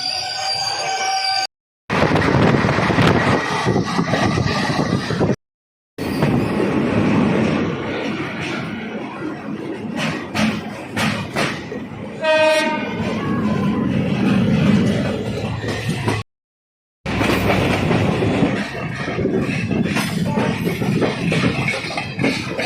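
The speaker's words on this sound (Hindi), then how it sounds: "Ramnagar Chandigarh weekly intercity superfast express." The 12527 Ramnagar–Chandigarh Weekly Intercity Superfast Express runs along the line with loud, sustained rumbling and rattling, brief squealing wheel tones near the middle, and several short abrupt silent gaps breaking the sound.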